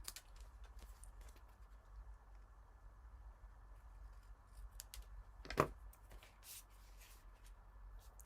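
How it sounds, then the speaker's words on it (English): Scissors trim the edges of a paper fan card, making faint, quiet snips and paper rustles over a low hum, with a single sharper cut standing out near the end. "And then we will just trim off these edges."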